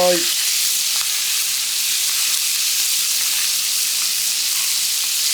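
Onions go into a hot pan and sizzle loudly and steadily up close, a dense frying hiss that holds without a break.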